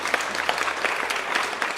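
Brief burst of studio audience applause opening an agricultural television show, dense, even clapping from a sizeable crowd.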